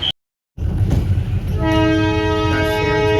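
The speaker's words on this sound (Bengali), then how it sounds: "আমাদের ট্রেনটা ওখানে গিয়ে থেমেছে, ওখানে বাসি মারছে, যেতে হবে" Darjeeling toy train whistle sounding long and loud after a brief silence, steady and shrill over the rumble of the halted train at a hill station, with no talk.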